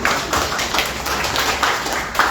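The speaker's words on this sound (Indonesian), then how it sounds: "tepuk tangan dulu buat Tuhan" A church congregation claps together during a worship sermon, a loud, continuous wash of hands with faint rhythmic pulses and no speech on top.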